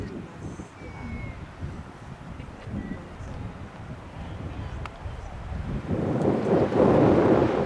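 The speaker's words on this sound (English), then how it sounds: "A little bit windy." Wind buffets the microphone in uneven rumbling gusts outdoors in the North Cascades mountains, strengthening toward the end.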